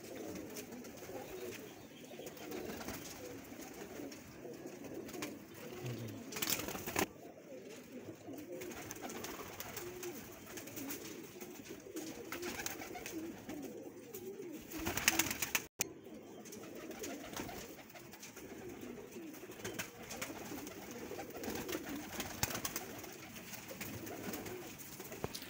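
Chuhay-breed pigeon chicks and adult pigeons coo and rustle steadily at close range, a soft continuous chorus of bird calls with no talking.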